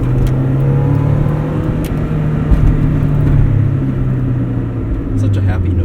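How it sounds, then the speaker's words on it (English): A 1996 Mazda MX-5 Miata 1.8 engine drones steadily from inside the car while driving, a close buzzing hum with a slight change in pitch near the end and speech partly over it. "It's like there's a bunch of bees under the hood, just bzzz."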